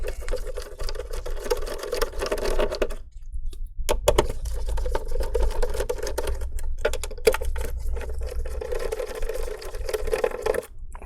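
Close, quiet whirring and ticking from an electric screwdriver backing out screws on an Acer Aspire C24 1300 all-in-one computer, in short bursts with brief gaps and no talking.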